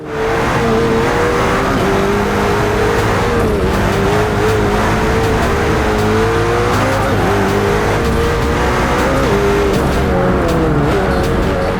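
A car in a racing video game accelerates hard from a standstill. Its engine roars loud and continuous for about twelve seconds, with its pitch wavering and climbing through the gears, and no talk over it.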